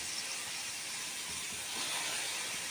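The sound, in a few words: chopped bitter gourd sizzling as it is added to the pan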